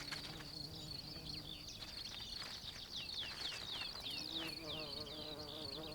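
Bees buzz steadily close by, with a continuous droning hum and wingbeat tones rising and falling over a quiet outdoor background.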